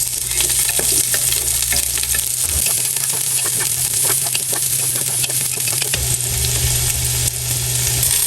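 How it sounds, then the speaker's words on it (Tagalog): Garlic and onion sauté in a pan, a loud, dense, continuous sizzle with rapid crackling and frequent metallic scrapes and taps of a spatula stirring throughout. "Gigisa muna po tayo ng bawang sibuyas."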